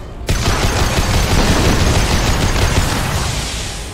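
Dense, continuous gunfire from the video game Mass Effect 2 starts abruptly and stays loud and sustained, like a heavy barrage of overlapping shots.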